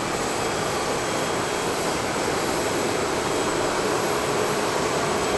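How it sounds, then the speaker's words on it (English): A Southwest Boeing 737 MAX 8 jet departing Dallas Love Field, producing a continuous loud engine roar with a broad hiss that stays constant and unbroken, no voices present. "Southwest Flight 4266 off to Palm Beach, West Palm Beach, I believe. And that would be a MAX 8 that is leaving our purview."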